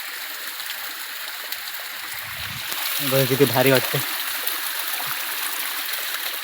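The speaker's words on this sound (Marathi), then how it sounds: "छोटासा धबधबा आहे. हे बघा पूर्ण वरनं येते वाहत" A small natural waterfall pours down from high above, a steady broadband rush of water filling the whole scene, with someone briefly speaking over it midway.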